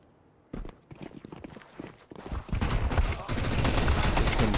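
Pistol gunfire during a professional Counter-Strike esports match, a dense run of sharp shots and footsteps that builds from sparse bursts to a loud, continuous clatter of overlapping game fire.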